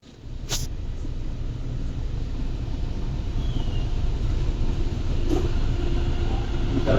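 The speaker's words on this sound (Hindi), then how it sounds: "तो ये मेट्रो सामने दिख रही, तो ये आ रही है नोएडा साइड से।" Delhi Metro train arriving from the Noida side, a steady low rumble building gradually, with a couple of faint high clicks along the way.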